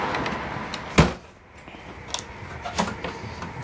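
A door inside a 2024 Jayco Seismic 399 toy hauler closes with a single solid thud, followed by a few small clicks and rattles in the quiet interior.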